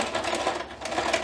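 A sewing machine stitches down a fabric appliqué carrot on a spring pennant, a close, continuous steady whir with no speech.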